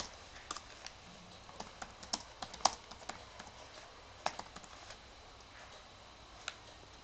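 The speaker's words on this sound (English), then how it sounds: "let's type something like hello world." Typing on a computer keyboard while entering text in a Linux terminal editor: a quiet, irregular patter of light key clicks with a few sharper taps, close by, no talk.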